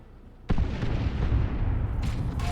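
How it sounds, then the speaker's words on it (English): Stun bomb explosions from a Dawn of War 2 strategy match, a sudden loud boom followed by a sustained rumbling roar and a couple of further sharp bursts near the end. "Here's some stun bombs again"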